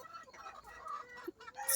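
Chickens clucking on a small chicken farm, a flock of about forty laying birds producing soft, scattered clucks and squawks at moderate distance, with a sharper call near the end.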